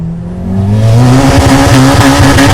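A turbocharged Honda Civic Type R EP3 revs hard at full power, a loud sustained engine roar climbing in pitch and holding high, close and dominant.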